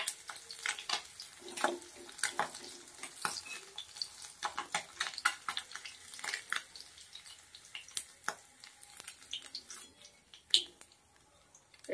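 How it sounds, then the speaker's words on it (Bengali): Small morola fish crackle and spit in hot oil, with irregular sharp pops and sizzles, close by, over a quiet background and without talk. "মাছগুলো হালকা লাল লাল করে ভাজা হয়ে গেছে"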